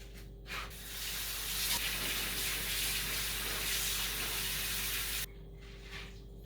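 Soaked quinoa and buckwheat are rinsed under a running tap, a steady rushing stream of water for about five seconds that cuts off abruptly, followed by faint handling noise.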